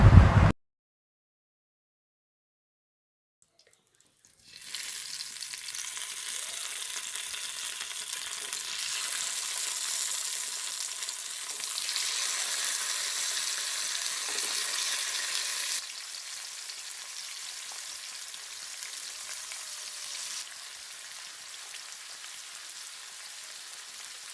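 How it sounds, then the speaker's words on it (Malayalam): Sardines fry steadily in a pan with a loud, continuous sizzle after a brief silent gap near the start, dropping slightly in intensity toward the end. "ഒരു പാൻ വെച്ച് അതിലേക്ക് മീൻ ഓരോന്നായിട്ട് വറുത്തെടുക്കാം"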